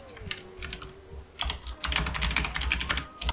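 Rapid clicking keystrokes on a computer keyboard, irregular bursts close to the microphone, with a faint tonal hum underneath.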